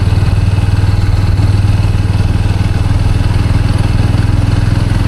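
A motorcycle engine runs steadily at close range on the road toward Nandi Hills, its low rumbling drone and fast even pulsing continuing without a break and with no one talking.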